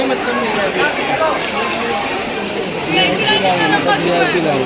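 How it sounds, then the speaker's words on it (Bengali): A crowd at the Durga Puja pandals in Kolkata on Shashthi, a dense, continuous babble of many voices close around, steady throughout with no pause. "ষষ্ঠীর ভিড়"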